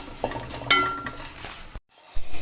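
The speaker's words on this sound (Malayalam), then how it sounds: "എല്ലാം കൂടി ഒന്ന് പച്ചമണം മാറുന്ന വരെ ഒന്ന് വഴറ്റിയെടുക്കണം" Spices for a bean masala curry are sautéed and stirred in a pan. The spoon scrapes and knocks against the pan under a soft sizzle, and there is one short silent gap.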